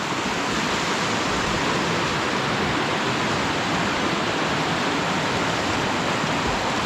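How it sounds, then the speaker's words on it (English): Roushtown Creek rushes past, bitter cold and raging, in a loud, dense, unbroken roar of churning water with no voices. "That water looks bitter cold and raging."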